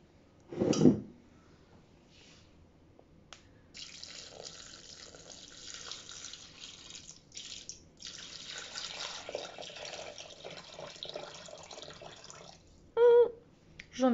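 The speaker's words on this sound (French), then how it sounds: "Suivant, ajouter 720 g d'eau." Water pours steadily into a Thermomix TM6 bowl for risotto, a soft continuous trickle lasting several seconds, preceded by a brief clunk and followed by a couple of knocks, with no one talking.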